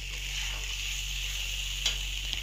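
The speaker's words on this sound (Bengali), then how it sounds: "টমেটো দিয়ে ভালো করে একটু নাড়িয়ে নেব" Tomatoes sizzle steadily as they are stirred in a pan over a low flame while cooking the base for a rohu fish head curry, a continuous fry hiss with a couple of faint utensil scrapes and no talk.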